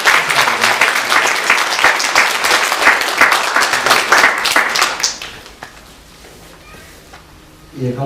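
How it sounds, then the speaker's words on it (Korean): A church congregation bursts into loud, dense applause at a Sunday service, sustained for about five seconds before quickly fading to quiet room tone. "이 모두를 박수로 축하하도록 하겠습니다."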